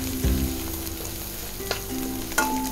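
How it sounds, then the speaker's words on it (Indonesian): Ground spice paste sizzles and fries steadily in a pan with bay leaves and bruised galangal, with a few sharp stirring scrapes over the continuous close hiss. "Tumis bumbu yang sudah dihaluskan dengan daun salam dan lengkuas yang sudah digeprek"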